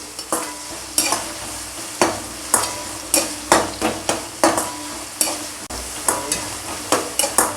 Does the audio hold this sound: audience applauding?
no